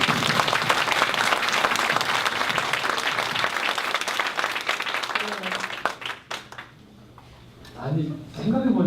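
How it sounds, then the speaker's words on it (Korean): Loud, sustained audience applause fills a community conference hall in Gwangsan-gu, Gwangju, then thins out and stops near the end, leaving a brief stretch where a voice begins speaking. "응원의 박수 한번 줄까요?"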